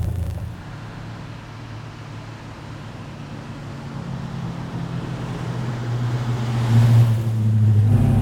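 A 1964 Plymouth Belvedere with a 426 Hemi engine idles with a deep, steady low rumble heard from inside the car, building slightly louder toward the end with a rising throttle swell.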